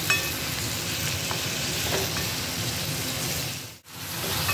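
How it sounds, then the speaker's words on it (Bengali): Cucumbers fry and get gently stirred in a pan, a loud, steady watery sizzle with soft scraping strokes and a brief dip in the hiss near the end. "হালকা হাতে শসাগুলো একটু নেড়ে দেবো।"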